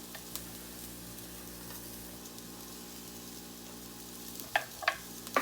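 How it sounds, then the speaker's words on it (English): Garlic sizzles with browned onions in a pan for pasta sauce: a steady, close frying hiss, ending in a few quick clinks as the pan is stirred. "then I put the garlic in all at once"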